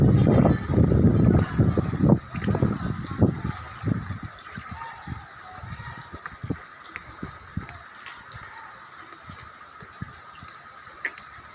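Floodwater gushing and sloshing in an area that does not normally flood, loud and turbulent at first, then settling into softer, broken splashing and trickling with scattered sharp splashes.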